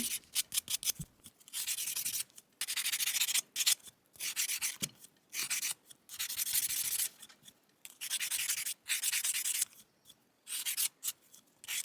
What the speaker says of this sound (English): I then go in with a foam block and ascending sandpaper grits to buff out any chatter left behind by the file